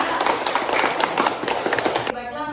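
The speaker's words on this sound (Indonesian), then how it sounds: "Oke, tepuk tangan dulu." Children in a classroom clap together in a brisk burst of rapid, close clapping with voices mixed in, which cuts off abruptly near the end.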